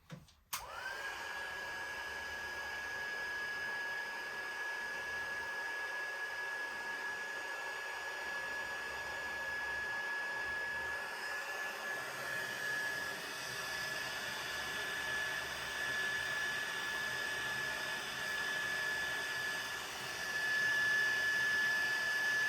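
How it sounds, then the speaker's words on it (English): An electric heat tool melts embossing powder on a papercraft project with a continuous whirring blow and a steady high whine, close and constant for the whole stretch. No speech. "there's some more embossing powder that I didn't get. I'm going to just heat that here real quick."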